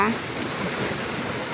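Sea waves wash on a beach under blustery wind buffeting the microphone, a steady broad rush with a brief voice-like tone at the very start.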